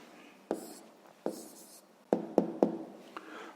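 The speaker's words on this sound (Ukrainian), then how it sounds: "Записуємо відповідь." Pen writing an answer by hand on paper, close and quiet, with several distinct taps and short scratchy strokes in an irregular rhythm.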